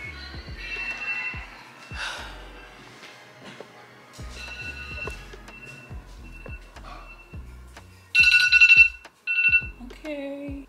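A phone alarm chimes in short bright bursts near the end, following a stretch of quiet indoor sounds and soft background activity.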